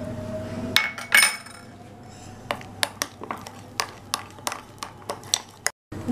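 A spoon clinks repeatedly against a bowl while coloured amriti batter is beaten, giving a run of sharp, close taps at a fairly steady beat, with a brief murmur of background noise at the start.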